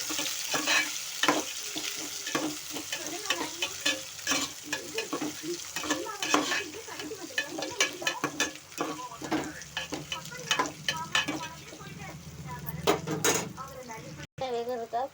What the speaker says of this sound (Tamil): வெங்காயத்தை போட்டு கிண்டி விடணும்.